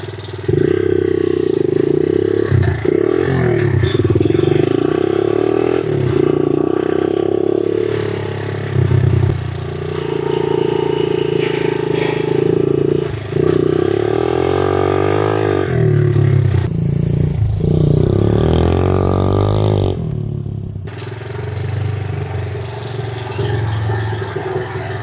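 A small Honda XL75 trail motorcycle rides a lap with a steady, close, loud engine drone, pitch rising and falling as it shifts and throttles, plus some rattle and clatter, with no talking.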